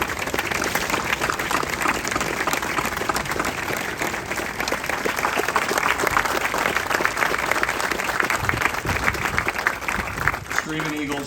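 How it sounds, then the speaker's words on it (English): A large outdoor crowd at a Normandy commemorative ceremony gives loud, sustained applause for veterans, the dense clapping continuing evenly throughout with voices mixed in. "please join me yet again for another round of applause for the tremendous veterans we have before us"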